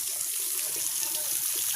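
Water pours steadily into a tank until it overflows, a continuous bright rushing and splashing with a constant level throughout.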